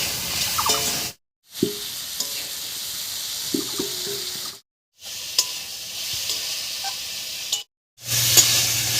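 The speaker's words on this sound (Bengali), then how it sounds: "এই অবস্থায় আলুটাকে একটু ভাজা ভাজা মতো করে নেব" Potatoes and tomatoes fry in a pan with salt and turmeric: a soft, continuous sizzle broken by a few short scraping stirs and brief gaps of near silence, with no voices.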